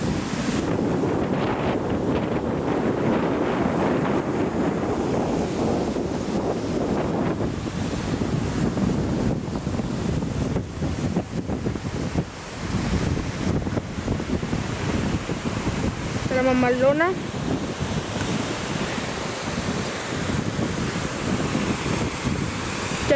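The Boquerón river near Loja, Ecuador rushes on with heavy wind buffeting the microphone, a loud continuous wash of water throughout, with a brief voice breaking through near the end.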